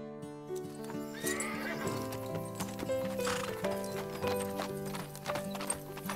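A horse whinnies loudly, then clip-clop hooves and snorting follow over a background of music.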